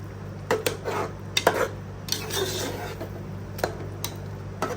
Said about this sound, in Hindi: अब इसको अच्छे से मिक्स करके इसको पका लेंगे